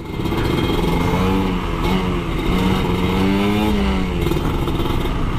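A Kawasaki Ninja ZX 150 RR 2006 two-stroke motorcycle engine, heavily modified, revs up and down repeatedly, loud and close, with a buzzy rattling tone throughout.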